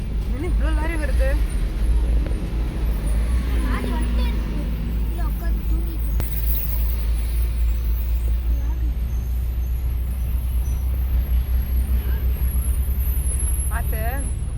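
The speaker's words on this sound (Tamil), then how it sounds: "என்ன இவ்ளோ லாரி வருது?" Lorries rumble past on a road through Sathyamangalam forest, a loud continuous low engine roar with bursts of hissing brakes, while people talk over it.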